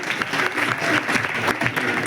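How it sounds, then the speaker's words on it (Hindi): A crowd breaks into loud applause at a gathering, a dense burst of many hands clapping close and steady throughout, with a few stronger swells, heard alone without talk. "जोरदार तालियां"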